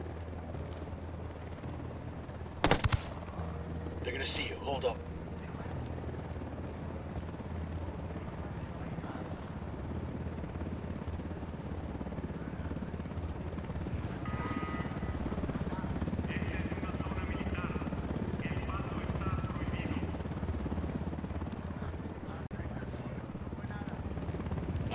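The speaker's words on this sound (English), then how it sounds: "Helicopter incoming." A helicopter in the video game Ghost Recon Wildlands gives a constant low rotor drone that stays loud and steady throughout, with brief game effects and people talking over it.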